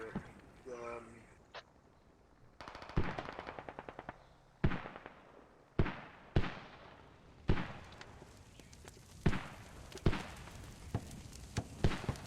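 Canadian mortar rounds firing in a military shooter game, a series of sharp, loud booms spaced a second or two apart with lingering tails, mixed with machine-gun bursts and distant battle noise.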